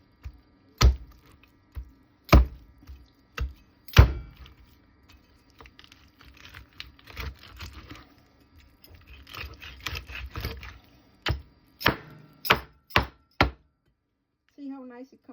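A knife hacks through a raw duck on a cutting board: sharp, close chopping strikes land at uneven intervals, with a stretch of softer scraping and cutting between the heavier blows.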